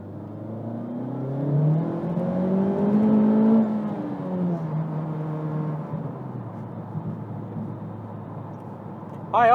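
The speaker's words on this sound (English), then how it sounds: "augmented engine sound being played through the speakers" Augmented engine sound from a 2020 Honda Civic Type-R FK8, played through the cabin speakers, rises in pitch as the car accelerates through a gear, then settles into a steadier drone, with a moderate interior hum throughout.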